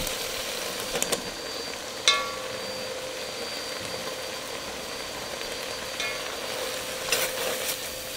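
Flour being stirred into the pot for clam chowder, a soft steady scraping and sizzle with a few brief clinks of the spoon against the pot, moderately quiet and with no talk.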